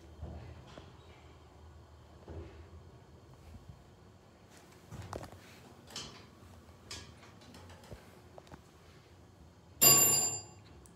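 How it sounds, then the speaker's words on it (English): An elevator alarm bell on a Dover hydraulic elevator in a parking garage gives a sudden loud, bright burst near the end, after a stretch of quiet mechanical ticks and clunks echoing through the garage. "that bell is loud"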